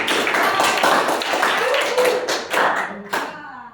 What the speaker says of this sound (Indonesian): tepuk tangan lagi semuanya